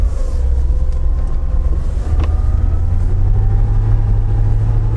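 Niva or UAZ Patriot SUV grinding through mud in the rain in third low-range gear at about 2000 rpm, a steady loud engine drone with low rumble and wind buffeting throughout, no talking.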